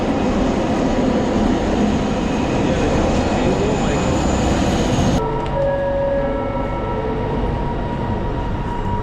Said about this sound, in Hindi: इसी तरह अब मेरी ट्रेन भी आ गई